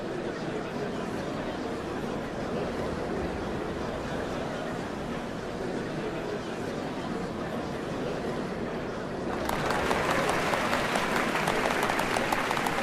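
Crowd applause in Final Fantasy XIV, a steady wash of clapping and murmur at an open gathering for a dawn ceremony, growing brighter and denser near the end.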